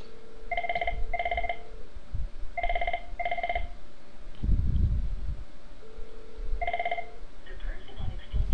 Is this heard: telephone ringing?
yes